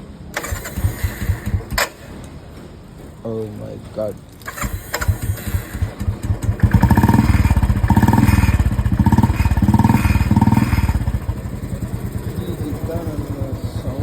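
A Royal Enfield motorcycle fitted with a short bottle silencer cranks and catches, then settles into a loud, close, steady thumping run; people talk and exclaim over the early part before the engine noise takes over.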